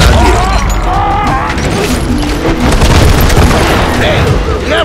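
Dense, loud gunfire and booming explosions fill a shootout at a surrounded homestead in Call of Juarez: Gunslinger, a continuous barrage with shouted voices mixed in.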